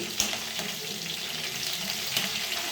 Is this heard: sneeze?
no